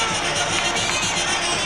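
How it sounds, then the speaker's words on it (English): Boxing arena crowd cheering as Julio Cesar Chavez enters the ring for his 1990 fight against Meldrick Taylor, a dense, steady roar of many voices filling the hall. "the noise will begin to swell as he enters the ring and comes within sight of most of the crowd"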